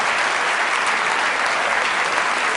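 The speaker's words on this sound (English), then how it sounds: "let's give all 4 of these people a nice round of applause." Audience applause after a mental math performance on stage, a dense, steady clapping from a large crowd that stays loud and even for the whole stretch with no talking over it.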